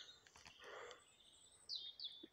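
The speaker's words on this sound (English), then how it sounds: "Listen to them birds." Outdoor birdsong near a Saxon roundhouse among trees: a few short, high chirps and whistled notes, fairly faint against a quiet background.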